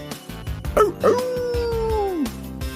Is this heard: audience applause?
no